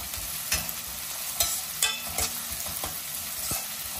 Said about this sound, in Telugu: ఇది కూడా వేసేసుకొని చక్కగా పచ్చివాసన పోయేంత వరకు ఇది కూడా ఫ్రై చేసేసుకుందామండి.